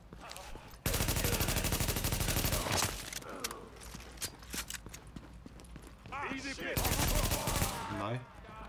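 Rapid automatic gunfire in The Division, loud sustained bursts of shots with pauses between them, set against game ambience and a voice talking in between.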